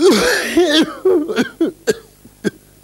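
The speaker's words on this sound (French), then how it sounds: "Toussez." A person coughs several times on request during a medical examination, in short, sharp bursts, the first few harsher and breathier, then trailing off into quieter single coughs.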